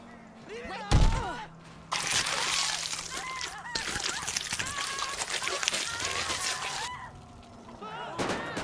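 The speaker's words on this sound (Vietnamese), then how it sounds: "trong tiệm tạp hóa có tiếng súng nổ ra thì phải" Gunfire breaks out in the GTA 5 video game during a zombie virus outbreak scene, with a sharp loud shot followed by a long stretch of rapid bursts and impacts, while a commentator talks over it.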